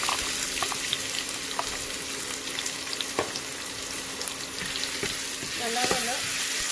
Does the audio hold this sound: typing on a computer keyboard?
no